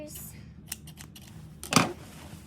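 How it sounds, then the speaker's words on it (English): Scissors snip through fabric while a baby girl's flared pearl dress is being sewn, a short sharp cut near the end following a few lighter clicks of the blades, heard close up with quiet room noise. "Getting my scissors."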